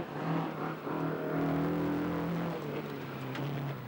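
A rally sprint car, driven by a 29-year-old from Nelson, revs hard toward the finish line, its engine note rising and falling through gear changes at a moderate distance before fading slightly.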